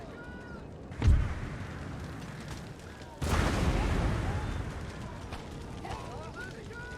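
Cannon artillery fire from the Empire: Total War strategy game, a distant boom followed by a heavier blast that leaves a sustained rumble and crackling battle noise, under faint background sounds.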